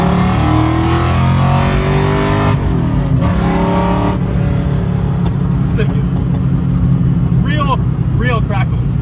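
A Ford Mustang GT V8 rescued from a junkyard, loud engine revving with throaty exhaust rumble and sharp crackle-like pops, while people talk over it nearby.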